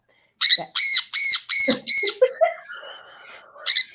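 A pet bird gives a run of five loud harsh squawks in quick rhythm, close and clear, then softer chattering calls and one final squawk.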